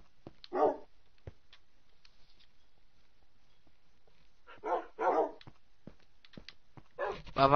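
Dogs in the Minecraft video game bark in several short bursts, some of them doubled, against near silence, with clicks and brief gaps between them.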